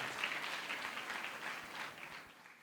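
A church congregation at a temple consecration festival claps together in steady, dense applause, fairly faint and distant, with no voices over it.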